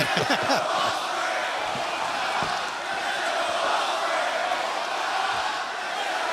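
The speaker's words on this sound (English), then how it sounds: "Fans trying to cheer Ospreay on," Wrestling fans in an arena crowd cheer on Will Ospreay during a match, a loud sustained roar of many voices with a few sharp thuds early on, a commentator speaking over it.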